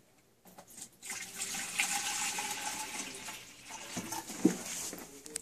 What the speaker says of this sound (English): you must add some distilled water to the bottom of the waste bottle